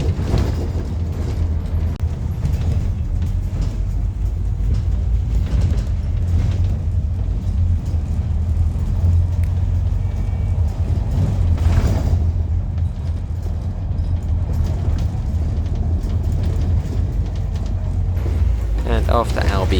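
A Scania OmniCity bus on Metrobus airport Route 200, heard from inside as a steady low engine and road rumble that swells and eases over the ride.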